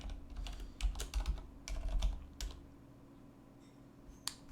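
A computer keyboard clatters as someone types out a hyperlink, a quick irregular run of soft key clicks that is close but quiet, with a low hum underneath and no speech.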